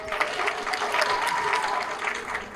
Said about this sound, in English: How about a nice round of applause for Maggie, ladies and gentlemen?